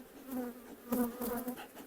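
Honey bees buzz at an opened hive during brood expansion into a second box: a close, steady droning hum with individual bees swelling louder as they pass near, alone without talk.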